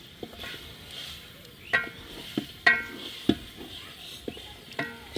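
Meat frying with spices in a pot on a low gas flame, a soft steady sizzle broken by repeated scraping and clinking of a metal spoon against the pot, fairly close.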